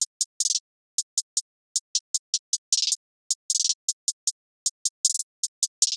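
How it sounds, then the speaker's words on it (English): A hi-hat pattern programmed in FL Studio ticks along in crisp, closely spaced hits, with quick rolls and triplet bursts breaking up the steady rhythm, dry and alone over silence. "After that, I added this hi-hat pattern that sounds like this."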